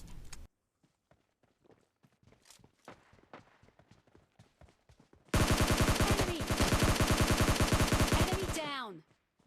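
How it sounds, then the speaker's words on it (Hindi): PUBG Mobile Lite gameplay: scattered faint shots and footsteps, then a loud sustained burst of rapid automatic gunfire lasting several seconds before cutting off. "बाहर से जो गोली चलने की भी साउंड आ रही थी"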